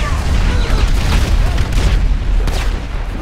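A meteor strikes in the Grand Theft Auto Thanos mod, giving a loud, dense, sustained rumbling blast with crackling debris that fills the whole moment.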